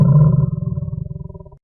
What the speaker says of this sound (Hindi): शेर गुस्से में दहाड़ता है